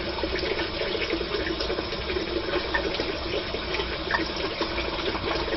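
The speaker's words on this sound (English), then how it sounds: "A little bit of water there." Water runs steadily from a bathroom tap during a wet shave, a continuous broad rushing hiss at moderate level, with no talk.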